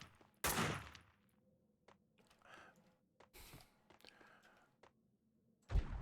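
Max Payne 2 gunfire comes in sharp separate shots: a loud blast, several fainter cracks spread across the stretch, and another loud shot at the end, with low game ambience underneath.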